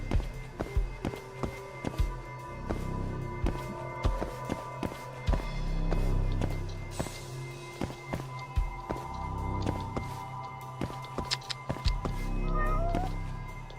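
Cat meowing in the video game Judgement, heard among repeated footsteps and taps, with in-game ambience and a steady hum throughout.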